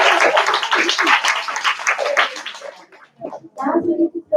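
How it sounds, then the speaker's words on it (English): Audience applause at a college graduation project seminar, a dense burst of clapping that thins out after a few seconds into scattered claps, with a voice beginning to speak near the end. "Let's give them a round of applause."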